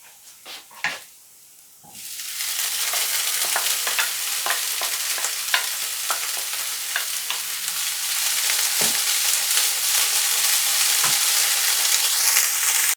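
Tuna is tipped into a pan for empanada filling and sautés with a loud, continuous sizzle that starts abruptly after a few quiet knocks, with spatula scrapes as the fish is broken up, close and without talk.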